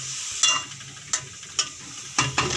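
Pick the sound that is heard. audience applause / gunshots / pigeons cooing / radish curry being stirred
radish curry being stirred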